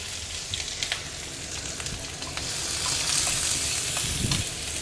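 Chopped onion fries in hot mustard oil in a kadai with a continuous, fairly quiet crackling sizzle that swells slightly partway through, with no talking.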